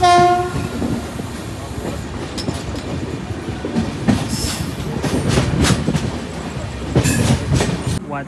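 A passenger train sounds a loud, sustained horn at the start, then its wheels rumble and clack along the rails with occasional squeals and bursts of noise, all close and loud.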